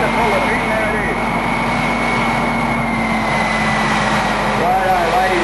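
A 1,400 horsepower Mamba jet turbine, driving through a reduction box from an old army DUKW, powers a pulling tractor at the Briagalong tractor pulls, a loud continuous roar and whine that holds steady throughout.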